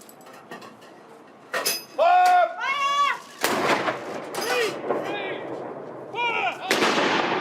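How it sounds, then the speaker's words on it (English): Ceremonial artillery gun salute of 41 rounds for the Duke of Edinburgh's death, fired by the Honourable Artillery Company in London: loud booming blasts with rolling echo, separated by gaps and mixed with background crowd and bird sounds. "the simultaneous second shot has been fired by the Honourable Artillery Company"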